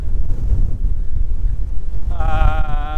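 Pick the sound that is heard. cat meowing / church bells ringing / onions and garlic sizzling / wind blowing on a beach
wind blowing on a beach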